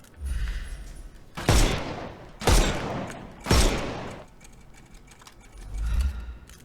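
Gunfire in the Sherlock Holmes Chapter One video game: three sharp, loud shots about a second apart, each with a long ringing decay, framed by low rumbling ambience.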